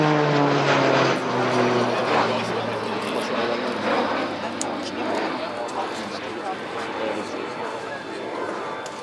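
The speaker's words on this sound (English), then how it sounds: "The aircraft is repositioning for a high speed maneuver that photo pass." T-6A Texan II propeller trainer flying a display at an airshow, its engine roaring loud and steady with a falling pitch as it passes, fading gradually under a public-address commentator's voice.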